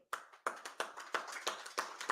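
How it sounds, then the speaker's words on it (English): A small audience claps after a name is read out at an association event. Sparse, separate claps come in a loose rhythm, about seven distinct strikes over two seconds, fairly close and with no talk. "A round of applause to her."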